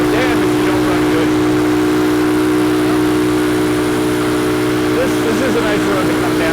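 A 45-year-old vintage motorcycle engine drones loud and steady while riding, a constant low mechanical hum with wind rush, and a rider talks over it.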